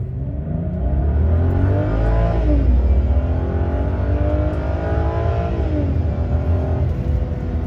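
A BMW E90 sedan launches from a standstill in sport mode, its engine note climbing steadily through the gears in a loud, continuous run with rising and falling pitch sweeps at each shift.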